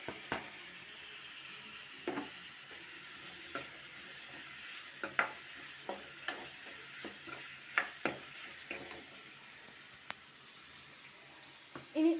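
Onion and tomato fry in a pan with a steady low sizzle as a spatula scrapes and taps against the pan at irregular moments, close but fairly quiet, with no voices over it.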